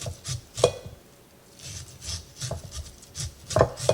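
Corn cutter scraping kernels from a white sweet corn cob, heard as repeated close rasping, rubbing strokes in an irregular rhythm with soft woody scrapes between them, with no talking.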